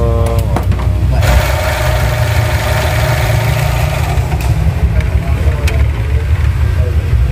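The engine of a Nissan X-Trail T30 idles loudly with a steady hum and a faint, quick clicking from the area between the tensioner and the alternator pulley. A few sharper ticks stand out near the start.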